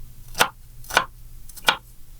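A knife chops through onion on a cutting board in a home kitchen, three distinct, fairly crisp cuts spaced about half a second apart, each followed by quiet.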